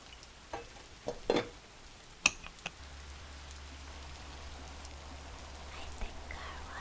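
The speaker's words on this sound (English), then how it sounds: "I think our water is boiled. Can you hear that?" Water bubbles in a pot on a stovetop burner, a soft, steady seething hiss over a low hum that settles in after a few light clicks and taps near the start, close and quiet, with no speech.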